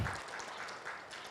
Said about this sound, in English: please give a big applause to Professor Ehara